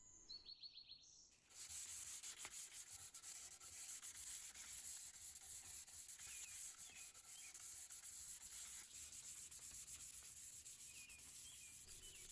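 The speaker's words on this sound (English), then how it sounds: "it was no trouble hand sanding those away using 120, 240, and then 600 grit sandpaper" Steady back-and-forth rasp of sandpaper rubbing wood, close and continuous, with faint bird chirps in the background.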